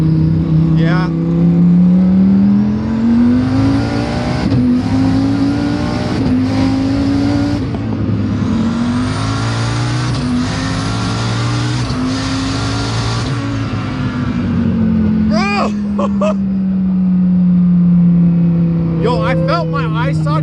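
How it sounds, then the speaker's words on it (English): A 1000 hp twin-turbo Dodge Viper accelerates hard through several rising, roaring gear pulls with brief shift breaks, loud and close from inside the car, with occupants' voices and excited shouts over the engine. "Fastest car I've ever been in."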